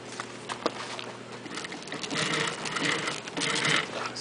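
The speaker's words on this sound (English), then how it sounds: "I told them to do the corner so you can see how it's sewing." A bag edge sealing machine sews a corner with a steady mechanical whirr and rapid stitching chatter that grows louder toward the end.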